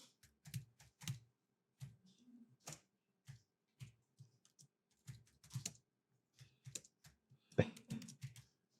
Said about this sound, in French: Et vous allez taper un titre.